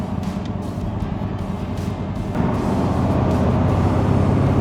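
A restored 1934 Packard Eight convertible cruises down a country road, its engine and road noise forming a steady low rumble that swells slightly louder partway through, with no talking.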